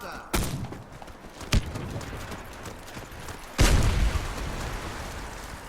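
Grenade blasts in a team shooter video game during a fight over a command post. Three sharp, loud booms spread over a few seconds, the last heaviest and rumbling on, over a dim background of game noise.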